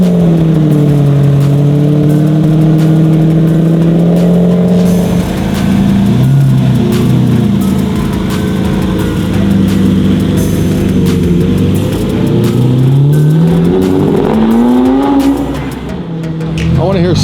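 Engine note of a Lamborghini Murcielago from the Fast and the Furious, revving in sport mode, rises and falls in long sweeps and holds a loud, steady drone throughout, with voices talking over it.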